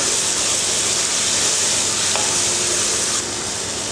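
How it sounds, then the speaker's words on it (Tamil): Loud, dense sizzle of dried shark fish sautéing in hot oil with tomato and onion, a continuous hissing fry with a faint scrape of stirring midway. "கருவாடு வந்து எண்ணெயில் வந்து ஒரு 2-3 நிமிஷம் நல்லா வதங்கணும்"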